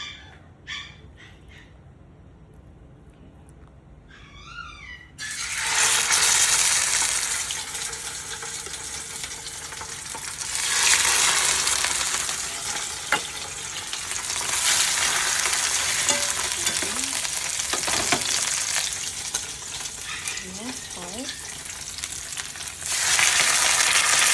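Garlic and salmon fry in olive oil in a pan, with a loud, steady sizzle that starts after a few quiet seconds and keeps going. Faint handling noises come and go underneath.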